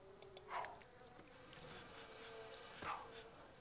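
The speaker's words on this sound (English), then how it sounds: "There's a lot of bees here." Bees buzzing around beehive boxes in a video game where honey is harvested, a soft insect drone with faint rising swells, quiet and continuous under low game ambience.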